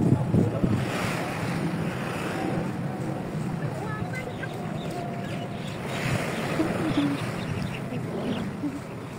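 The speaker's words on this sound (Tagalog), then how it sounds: "Ang ganda ng dagat." Sea waves wash onto the beach at Shouson Hill, a continuous rolling surf with gusty wind buffeting the microphone and soft voices talking faintly underneath.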